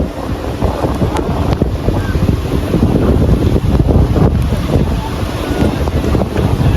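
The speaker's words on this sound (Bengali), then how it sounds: "এই হচ্ছে টাঙ্গুয়ারের রাত্রের পরিবেশ" Night on Tanguar Haor brings strong wind buffeting the microphone in loud, rough gusts, with lapping water and a faint boat hum underneath, no clear speech.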